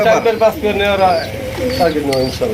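Pigeons cooing at a market where birds are sold, the soft repeated coos running alongside someone talking throughout.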